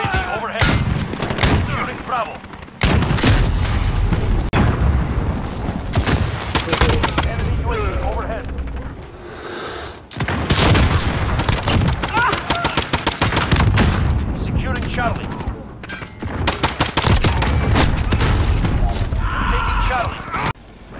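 Repeated video game gunfire from a platinum Desert Eagle pistol, loud bursts of shots through most of the stretch with short lulls, mixed with game effects and some talk.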